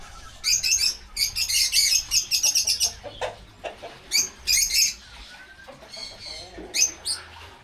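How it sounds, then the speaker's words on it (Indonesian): Lovebirds in a breeding aviary chirp in quick bright bursts, several birds calling close together in clusters with short pauses between. "Ini lovebird non-clap semua nih."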